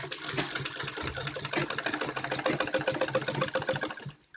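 A sewing machine runs steadily while stitching piping along a neckline, a continuous mechanical whir with rapid needle clatter that carries on alone before stopping abruptly at the end.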